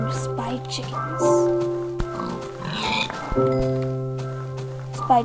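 A pig oinks in a blocky farming video game, short grunting sounds over a busy game background with tonal music, while a person talks over it.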